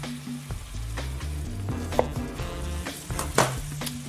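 Plantain slices fry in oil in a pan with a steady sizzle, punctuated by occasional clinks and scrapes of a utensil stirring against the pan.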